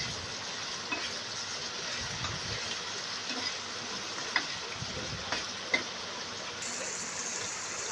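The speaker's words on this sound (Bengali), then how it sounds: "এবার মাংসগুলোকে দিয়ে দেব, মাংসগুলোকেও তেলের সাথে একটু ভেজে নেব।" Meat frying in oil with garlic and ginger paste for a restaurant-style Chinese vegetable dish, a steady close sizzle broken by occasional stirring clinks, with no talk.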